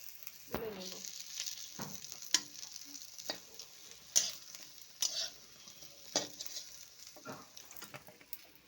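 Prawn fritters fry quietly in oil, soft sizzling broken by scattered clicks and scrapes as they are stirred and lifted out, with no talking.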